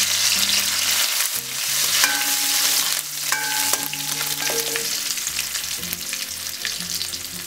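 Onions and curry leaves frying in hot oil for a kadala koththu, a loud continuous close sizzle with bright crackling, occasional soft knocks and faint tonal clinks, steady throughout.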